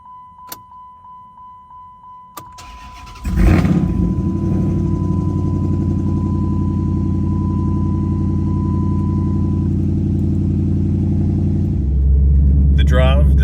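A car just fitted with new brake pads is started and driven: a door chime beeps repeatedly, keys clink, then the engine catches and runs with a loud, steady rumble close by.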